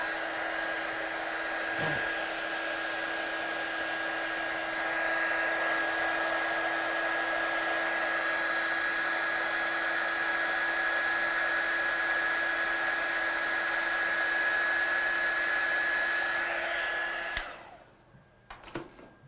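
A heat gun blows steadily for about seventeen seconds while heat-setting stamped ink on card, a loud close whine and rushing air with a faint tone, then it cuts off.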